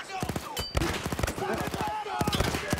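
Rapid bursts of machine gun fire in Battlefield 1 crack repeatedly, loud and close, in a dense sustained rattle with brief gaps.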